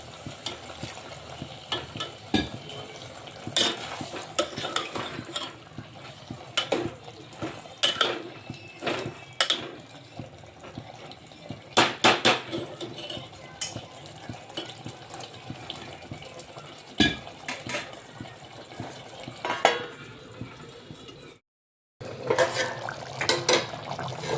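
Water goes into a vegetable curry cooking in a pan, amid frequent clinks and scrapes of a spoon against the cookware and a soft running, trickling wash, close and moderately loud, with a brief silent gap near the end.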